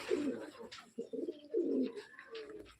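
A male pigeon coos nearby in soft, rolling phrases, three or four throaty calls in close succession with brief pauses between, faint background chirps behind.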